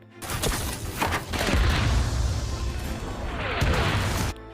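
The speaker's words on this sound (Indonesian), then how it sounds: "tiba-tiba mereka ditembaki musuh dengan menggunakan tembakan mesin dari arah depan" Dense bursts of machine-gun fire crackle and boom in a sustained, rattling barrage, loud and chaotic like a battle, from the war film Danger Close.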